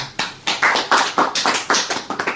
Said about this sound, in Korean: 우리 박수